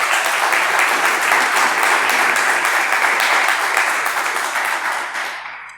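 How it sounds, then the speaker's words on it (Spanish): An audience at a talk on trans women in the workplace breaks into sustained, dense applause, loud and even from the start before thinning and fading out near the end. "Aplaudan, ¿no?"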